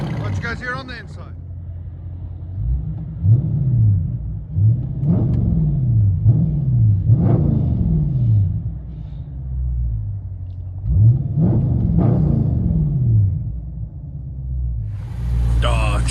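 Inside a 2021 Dodge Charger Scat Pack widebody, the 6.4L HEMI V8 with straight-piped dual exhaust rumbles at idle, then revs in short bursts, first a series of quick blips and later a pair, with brief talk at the start and end.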